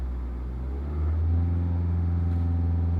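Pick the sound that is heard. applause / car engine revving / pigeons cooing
car engine revving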